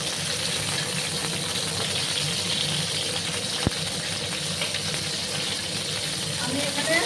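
Okra, around 300 grams, hisses into hot oil for frying, a steady close-up sizzle running the whole time with one sharp click near the middle.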